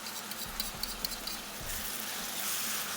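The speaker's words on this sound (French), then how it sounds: "Je fais bien suer ma garniture aromatique" Aromatic vegetables sweat in a frying pan with a steady, close sizzle, broken by a few soft stirring knocks and scrapes from a utensil.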